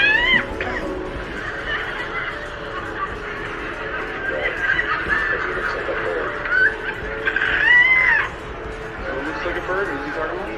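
A comedian mimics a cockatoo with his voice, giving shrill, squawking bird-like calls in short bursts over a busy background of laughter and talk from a crowd.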